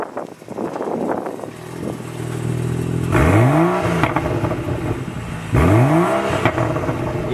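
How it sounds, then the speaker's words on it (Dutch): A car engine idles and then revs up sharply twice, each rev rising in pitch and falling back, loud and close with no talking. "Dit is de auto van onze vader, maar die wil ik ook even horen."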